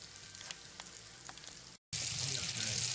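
Battered rabbit pieces, dredged in flour and buttermilk, sizzle and fry in a black cast iron pan, a steady dense crackle that cuts out for a moment and then returns louder and brighter.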